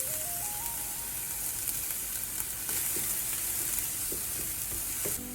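Mushrooms, onions and garlic sizzle steadily in a hot pan, a continuous frying hiss with occasional soft stirring clicks and scrapes throughout.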